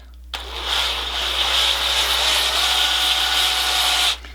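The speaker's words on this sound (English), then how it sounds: "that'll allow me to sand all this out without overheating it" A hook-and-loop sanding pad on a power tool works over curved wood, giving a steady close broadband whir with a high hiss that starts abruptly, holds evenly for about four seconds, then cuts off.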